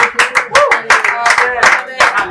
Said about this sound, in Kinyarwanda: Mwamumbere amashyi Mama Rishari.